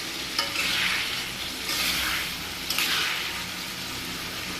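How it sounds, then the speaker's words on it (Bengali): Ridge gourd being sautéed in a pan for a thin hilsa fish curry, with a steady close sizzle and three louder swells of stirring, no voices. "এদিকে দেখুন সবজিটা ভালো করে কষিয়ে নেবে"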